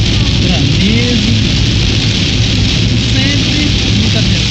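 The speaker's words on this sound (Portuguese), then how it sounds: "E a chuva continua, aquela chuva intensa, aquela chuva perigosa, vento, granizo." Heavy rain driven by wind, with hail, pounds a vehicle travelling on the BR-163 highway near Vila Vargas, a loud unbroken wash of hiss and low road rumble throughout.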